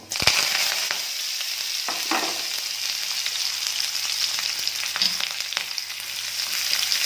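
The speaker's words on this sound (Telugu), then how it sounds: "వేసుకొని బాగా దూరగా వేయించి పోపేసుకోవాలి" Onions and curry leaves sizzle and crackle steadily in hot oil as a tempering for tomato dried-chilli dal, a dense continuous frying hiss with a few louder pops and stirring scrapes, with no voices.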